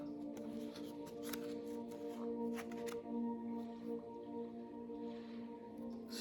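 Tarot cards being shuffled by hand and cut during a reading, soft papery riffles and taps at close range, quiet under a steady low hum with no talking.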